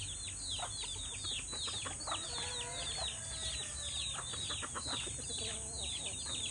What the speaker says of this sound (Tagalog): Small chicken.